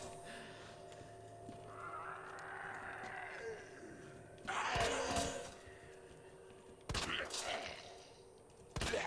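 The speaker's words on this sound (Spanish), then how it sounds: "no sé cuántos balazos te pegué" Gunfire in the video game Resident Evil 2: a few sharp, loud shots burst out over quieter game ambience and a sweeping tone, separated by pauses.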